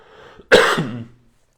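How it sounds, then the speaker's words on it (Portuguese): A single sharp, raspy cough bursts out close to the microphone, trailing off into a brief throaty tail before silence. "Desculpa a minha tosse."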